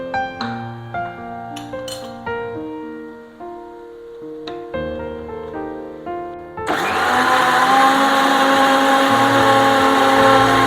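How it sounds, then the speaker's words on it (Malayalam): A kitchen mixer whirs loudly and steadily as it blends curd for a colocasia stem curry. Bright clinks and rattles of utensils come first, then the sustained motor roar. "നമ്മൾ ആവശ്യമായ തൈര് അടിച്ചു കൊണ്ടുവരാം"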